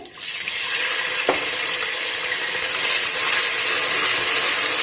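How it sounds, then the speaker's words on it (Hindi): Water runs and splashes steadily into a hot frying pan while cooking nihari, a continuous hissing pour that starts abruptly and holds loud throughout. "थोड़ा सा पानी ऐड करेंगे"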